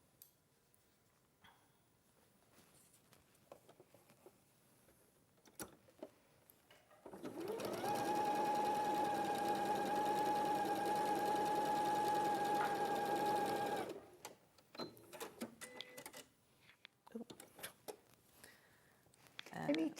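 Sewing machine running steadily for about six seconds as quilt star blocks are joined into rows with a quarter-inch seam, a bright sustained whir between quieter stretches of room sound and faint talk.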